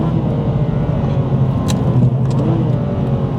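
A Subaru Legacy 3.0R with short gearing accelerates, its engine note climbing through a steady rumbling drone, heard close and loud from inside the car.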